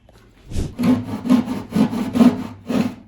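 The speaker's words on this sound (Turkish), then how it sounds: "tesviye yapıp sonra testereyle keseceğiz" A hand saw cuts through wood while trimming a door threshold, with about six rhythmic back-and-forth strokes, close and clear, and nothing else heard.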